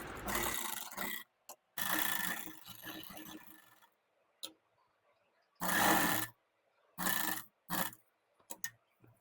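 A sewing machine stitching lace onto cloth runs in several short loud bursts of rapid whirring, separated by quiet pauses and a few brief clicks.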